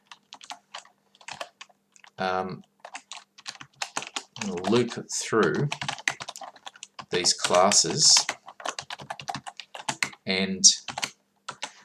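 Computer keyboard typing with rapid, uneven key clicks running throughout, partly under someone speaking steadily over it.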